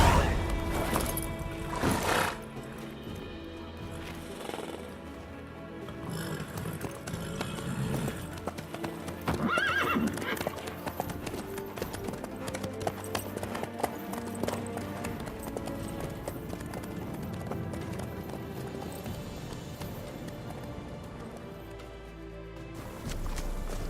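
Steady hoofbeats clip-clop through The Witcher 3 as a horse walks along, with a brief whinny early on, a low ambient bed beneath and faint voices in the background.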